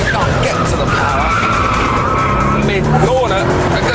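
A Gumpert Apollo sports car with 700 horsepower slides with its rear stepping out, its tyres squealing under a loud, constant engine roar, while someone talks over it.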